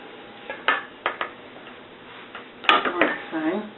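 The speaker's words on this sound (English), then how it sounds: "we're going to sieve the flour into a bowl" Flour being sieved into a bowl for Welsh cakes gives a few sharp metallic taps and light rattles at irregular intervals, and a voice talks briefly near the end.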